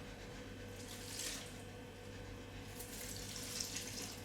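Water from a jug pours steadily into a container at home, a soft continuous splash with faint rises in brightness, alone with no talking.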